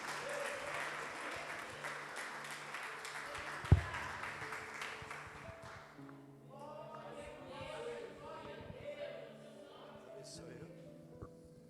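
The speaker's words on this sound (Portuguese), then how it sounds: "E as palmas louvam a Jesus." A church congregation applauds in praise during a service, broad clapping filling the first half before fading into softer music-like tones; one sharp thump stands out midway.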